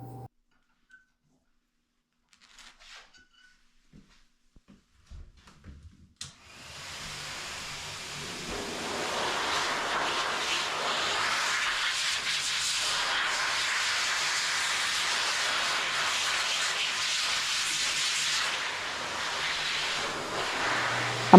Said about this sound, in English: I'm holding her ears closed while I blow dry the side of her head.